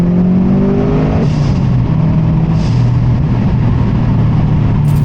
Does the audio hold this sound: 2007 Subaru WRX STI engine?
yes